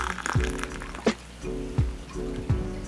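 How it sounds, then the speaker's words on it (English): Boiling water pours into a cup of Miko brand instant miso soup with tofu, a continuous close splashing trickle broken by a few small clunks and drips. "Pour the water in."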